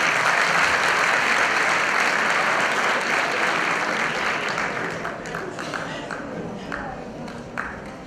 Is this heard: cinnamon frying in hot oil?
no